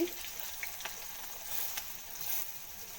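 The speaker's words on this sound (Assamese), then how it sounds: "তেলখিনি গৰম হ'লত ইয়াতে দি দিম সৰুকৈ কাটি থোৱা এটা পিঁয়াজ, দুফুটা নহৰু" Chopped onion and garlic fry in hot oil, a soft steady sizzle with faint crackles close by and no talk.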